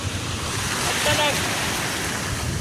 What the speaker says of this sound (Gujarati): ખતરનાક પાણી જો ઠેઠ અહીંયા સુધી આવી જાય છે.